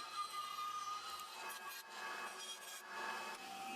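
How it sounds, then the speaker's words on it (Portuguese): A band saw cuts a wooden piece for a simple wooden bucket, a steady, quiet rasping whir continuing without pause, with no voices. "Na serra de fita, eu corto essa peça, mantendo uma boa distância para fora da linha."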